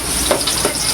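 Garlic sautéing in hot oil in a pan for chicken arroz caldo gives a short, steady sizzle with a couple of soft stirring scrapes, close and fairly loud with no talking.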